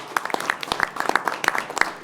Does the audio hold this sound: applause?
yes